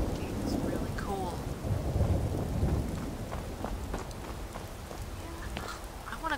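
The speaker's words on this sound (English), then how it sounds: "I want to go out and play in the rain." Rain and thunder in Skyrim, with steady rainfall hissing on surfaces and a deep thunder rumble swelling in the middle before fading.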